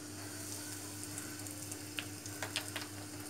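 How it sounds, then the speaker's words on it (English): Mustard and methi seeds crackle and pop in hot oil for a pickle tempering, a faint steady sizzle broken by a few sharp splutters toward the end. "as this much temperature is enough for the seeds to splutter"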